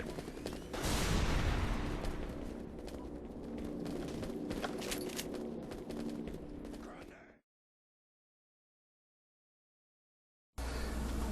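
Artillery guns of the Strogg Oppressor in Enemy Territory: Quake Wars fire in a dense, loud barrage of blasts and rumbling impacts for several seconds, then cut to silence before the din abruptly resumes.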